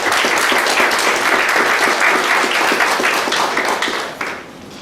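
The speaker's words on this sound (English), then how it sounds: "Give them a big round of applause." A large crowd applauds with steady, dense clapping that carries on for several seconds before starting to thin out at the end.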